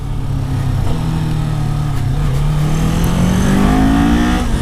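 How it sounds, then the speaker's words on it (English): Kawasaki Z400 motorcycle engine revving up under throttle, a steady close drone that climbs in pitch with a rising intake roar over a few seconds, no talk. "when you throttle up, this wonderful air intake sound kicks in, and it just sounds lovely"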